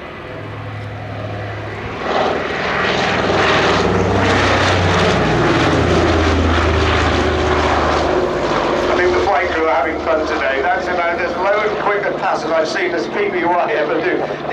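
A PBY-5A flying boat with piston propeller engines passes at an airshow, its loud droning roar swelling up and holding steady while an announcer talks over it.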